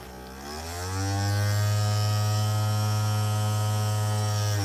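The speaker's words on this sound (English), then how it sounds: "And it still runs. This big fan." A Snap Circuits toy electric fan from a light-controlled dual-fan setup with an odd electrical malfunction, running with its photoresistor disconnected. The motor spins up over the first second into a loud, steady, close whirring hum that holds to the end.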